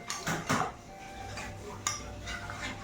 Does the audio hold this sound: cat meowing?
no